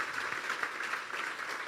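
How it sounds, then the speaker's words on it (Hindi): A crowd claps steadily at a church service, a dense wash of applause filling the room without pause. "जोरदार तालियां यीशु के जलाल के लिए।"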